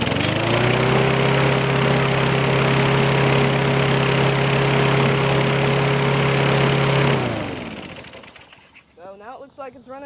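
A 1996 Murray Mulcher lawn mower's 5 HP engine runs loud and steady at a constant pitch after carburetor cleaning, then shuts down and winds out, leaving faint birdsong and brief talk.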